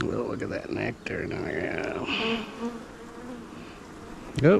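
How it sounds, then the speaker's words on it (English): Honeybees buzz around a horizontal beehive a month after a nuc was installed, a dense continuous hum close by, while a person talks over it and a brief sharp sound comes at the end. "Oh, bee in my hair."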